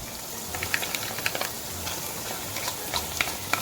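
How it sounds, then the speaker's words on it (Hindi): Yogurt being stirred into sizzling mutton keema in a pan, a steady low frying sizzle with scattered light scraping and clicking of the spoon, close and moderate in level. "अब मैं इसमें योगर्ट डाल दूंगी"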